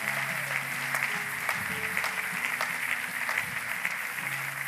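A church congregation at a Sunday service claps in sustained, dense applause, steady and fairly loud, filling the room without pause.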